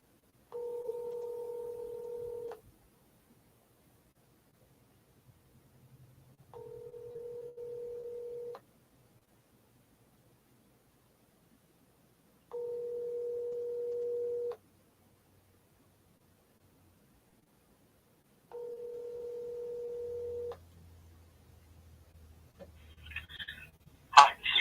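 A phone call being dialed, with four separate bursts of steady two-tone ringback roughly every six seconds, each lasting about two seconds, then silence and a faint low hum until a sudden click as the line picks up.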